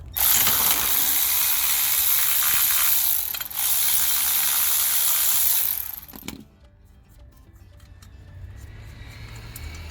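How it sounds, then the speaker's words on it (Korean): A ratchet loosening two 12mm nuts on a diesel car's fuel filter assembly: rapid loud clicking in long continuous runs, a short pause, then stopping abruptly, leaving quiet handling noises. "위쪽에 12mm 2개 풀어서 마저 분해하겠습니다."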